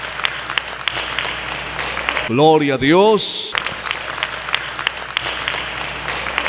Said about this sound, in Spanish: Vamos a brindarle un bonito aplauso para Jesús por la palabra